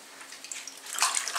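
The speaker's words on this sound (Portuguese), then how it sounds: "Depois é só colocar em uma outra água limpa pra terminar de lavar." Sweet potato leaves swished and rinsed by hand in a basin of clean water during home cooking prep, giving soft close splashing and dripping that swells louder toward the end.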